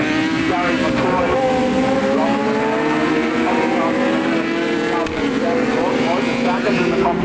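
Ducati superbikes race on a road circuit at the Ulster Superbike round, their engines a steady, loud droning whine throughout while a commentator talks over the noise.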